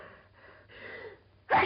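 After a quiet stretch of soft breathing, a single sharp sneeze bursts out near the end, close and loud, in a 1939 domestic film scene.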